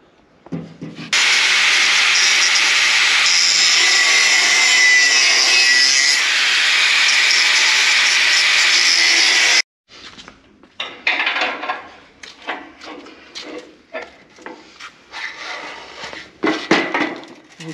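A power tool cutting out a welded reinforcement inside a MAN camper van, a loud continuous grinding whine for about eight seconds, then stops, followed by intermittent scraping and clattering of metal nearby.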